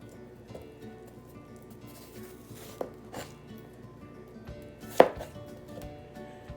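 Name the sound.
peeling and cutting apple pieces for cider vinegar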